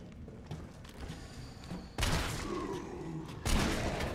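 Gunfire in the video game Resident Evil 3 Remake, soft thuds early on, then two loud, sharp blasts about a second and a half apart, each leaving a ringing tail.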